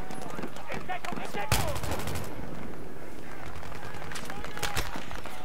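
Rapid gunfire from Battlefield 3 rattles in close bursts, with a couple of sharper loud shots standing out, while a player talks over the combat.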